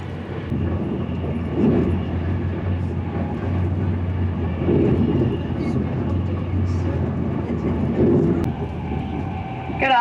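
Steady rumbling running noise fills a Virgin Trains passenger carriage travelling toward London Euston, a continuous low drone with faint rhythmic swells and no break.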